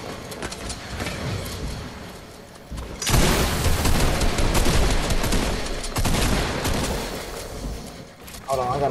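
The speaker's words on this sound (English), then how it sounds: "somebody trying to shoot me again" Rapid bursts of gunfire in a shooting video game, loud and dense, with volleys crowding together in the second half while a voice talks over the action.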